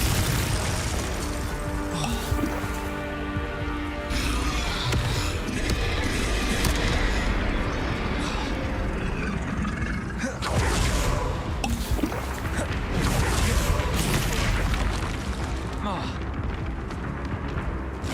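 In the Hogwarts Legacy video game, a Confringo blasting spell sets off an explosion. It lands as dense, loud booming bursts among other spell effects, with voices shouting spell names over the top.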